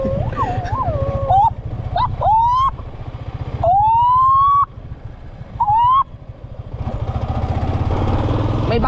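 A person imitates a police siren with their voice, rising wails and warbling yelps repeated in short bursts over a constant low engine drone, as from a moving vehicle.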